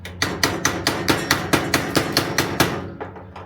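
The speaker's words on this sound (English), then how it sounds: "So I'm just getting ready to tap a lot of these out now." Rhythmic metal tapping on thin aluminum RV steps while threads are tapped, about a dozen sharp, evenly spaced clicks close by, each with a brief ringing tail, fading at the end.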